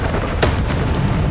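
Incendio fire spell cast in Hogwarts Legacy, a loud dense whoosh and roar of flame with a sharp burst near the start, steady and close, filling the whole moment.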